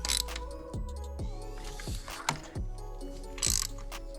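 Ratchet clicking in short bursts while snugging a spark plug on a 2019 Jeep Grand Cherokee, a series of close mechanical ticks with brief pauses between strokes, no talking.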